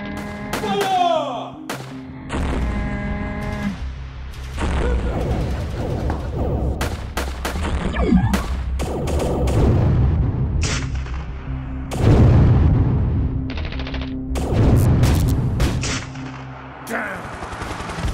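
Tank cannon fire, artillery blasts and machine-gun bursts rage through a battle at a base, with heavy booming thuds and rapid rattling volleys loud and dense throughout, shouted voices breaking in now and then.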